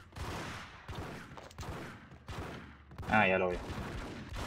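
Gunfire in the first Max Payne video game, repeated shots crackling amid game sounds while someone speaks Spanish over it, moderately loud.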